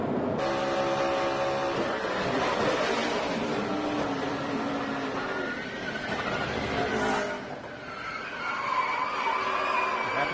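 NASCAR stock cars roaring past on track, a loud continuous engine drone swelling and dipping as a car slides through, with tire scrub noise and no talk.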